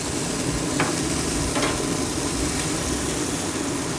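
Chicken on a Traeger pellet grill sizzles steadily as pieces are flipped, a loud dense hiss with a couple of faint scraping taps, close, no voices.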